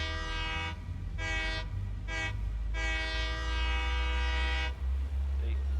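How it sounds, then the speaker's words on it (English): A train horn in a Steam video game sounds in four distinct blasts, two short toots and then a long sustained honk, clear and loud over a low engine rumble, with a voice speaking briefly. "See, gotta honk the horn."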